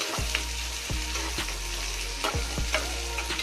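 Onions sizzle steadily while frying with ginger garlic paste for a Bhogali Bihu meal, a constant close hiss broken by several sharp scraping stirs of a spatula against the pan.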